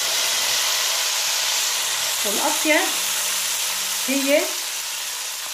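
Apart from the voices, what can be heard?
hot fat (dehna) poured onto stuffed zucchini dish, sizzling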